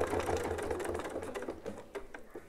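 A sewing machine stitches a small curved clamshell quilting line through a quilt using a ruler template, its steady needle chatter running continuously at close range.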